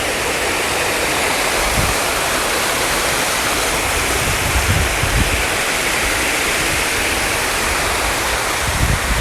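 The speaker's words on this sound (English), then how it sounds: "this side had tons of waterfalls. Like, it was super loud" Loud, steady roar of waterfalls cascading beside a bridge walkway at Magic Kingdom, a dense continuous wash of splashing water that stays close and unbroken throughout.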